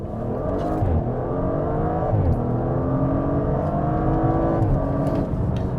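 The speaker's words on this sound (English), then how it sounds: "the sound of this uprated exhaust with the existing engine" A car engine with an uprated exhaust revs hard and loud, its pitch climbing through several gears with brief drops at each shift, continuous and close with no talking.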